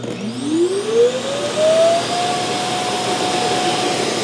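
A loud motor spins up with a rising whine, then settles into a steady roaring suction as a Roborock Q7 Max+ auto-empty dock empties the robot vacuum's dustbin into its bag.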